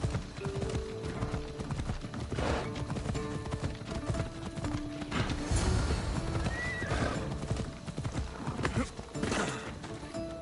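Hooves clip-clop rapidly and continuously in a gallop while a horse neighs, with other game sounds layered underneath, in Assassin's Creed Odyssey.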